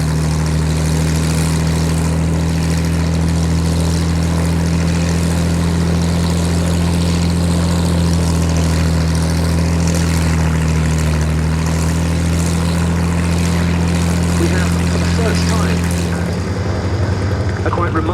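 A propeller-driven combat veteran aircraft at a UK airshow, its engine a loud, steady low drone holding throughout before tapering near the end.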